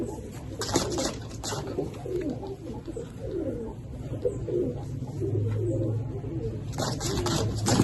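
A female Aliwale 35 pigeon gives repeated soft, throaty coos close by, mixed with rustling and faint background bird sounds. There is no talk.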